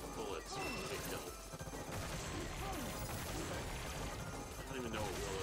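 Rapid, dense shooting from a side-scrolling shooter game, Cotton Reboot, forms a continuous busy clatter of small hits and blasts with music, and a voice talks throughout.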